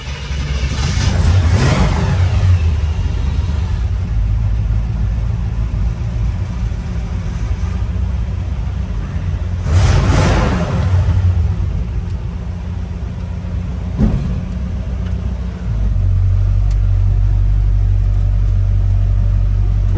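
A car engine with the choke pulled rumbles steadily and loudly, swelling in two strong revs and easing back to a heavy idle, close by with no talk.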